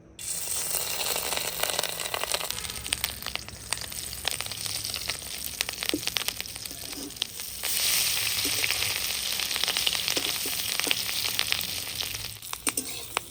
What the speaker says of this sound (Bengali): এবার ডিম তেলে দিয়ে ভালো করে ভেজে নেব।